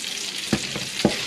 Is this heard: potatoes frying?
yes